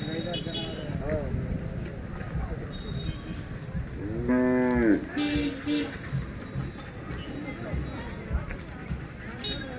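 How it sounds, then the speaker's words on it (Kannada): Large Hallikar oxen low at a cattle fair, with one long deep moo in the middle and fainter calls around it, heard over people talking and the crowd noise of the grounds. "ಇವು ಸಾಕ ದೊಡ್ಡ ಎತ್ತುಗಳು ಚೆನ್ನಾಗಿದಾವೆ"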